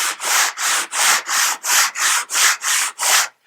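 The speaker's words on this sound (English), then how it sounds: "So I'll just begin sanding." Rhythmic back-and-forth sanding of wood on a luthier's flat sanding plate, nine even rasping strokes close to the microphone, each a loud gritty scrape, then silence at the end.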